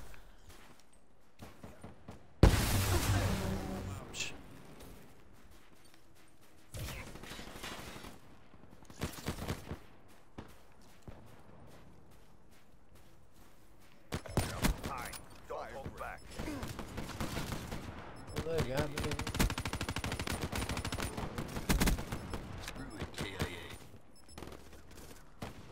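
Gunfire in a first-person shooter, with bursts of automatic shots and rattling volleys that come and go across the stretch, some louder passages near the start and later, and a speaking voice in places.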